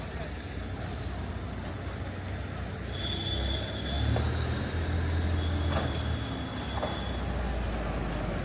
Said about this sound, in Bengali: এই ট্রেন আসতেছে